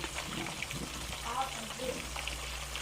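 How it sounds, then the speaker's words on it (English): Chicken frying in hot lard and Crisco shortening, a steady soft sizzle and crackle close by, with faint voices talking over it. "She taking the chicken out that's been cooked in the Crisco shortening"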